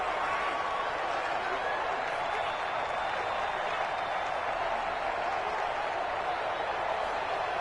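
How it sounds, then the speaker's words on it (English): A steady, loud stadium crowd roar fills a Madden 20 simulation of the Minnesota Vikings against the Seattle Seahawks, a dense wash of noise holding level throughout with no single voice standing out. "The crowd's not doing that O-line any favors."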